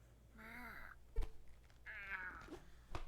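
A cat in the Night in the Woods video game gives two drawn-out, close meows, the first sliding down in pitch and the second higher and longer, with a soft thud between them and no talking.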